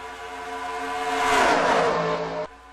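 Stock cars race past in a NASCAR video game, engines rising to a loud roaring whine that peaks as they pass, then cut off abruptly, with no talk.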